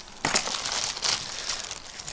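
Plastic crinkles in a few quick bursts, crisp rustles close by, with no talking.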